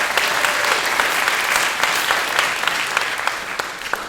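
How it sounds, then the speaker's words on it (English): A room full of people applauding after a saxophone solo at a symphonic and jazz band concert, dense and steady clapping that stays loud throughout, close and continuous. "give him a round of applause for getting the solo."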